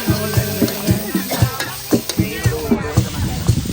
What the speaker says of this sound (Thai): เสร็จแล้วก็ใส่ปลาไหลลงไปเลยนะครับ แล้วก็ผัดให้ เนื้อปลาไหล มันสุกนะครับ